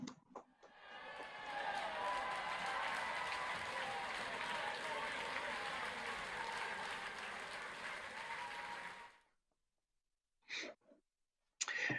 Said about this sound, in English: please unmute your microphones in a round of applause